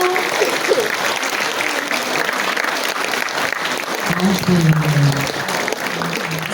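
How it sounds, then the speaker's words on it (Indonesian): Concert audience at an orchestra's twentieth-anniversary performance applauding, a dense, sustained wash of clapping from a full hall that continues throughout, with a presenter's voice speaking briefly over it. "Kita berikan tepuk tangan sekali lagi untuk mereka."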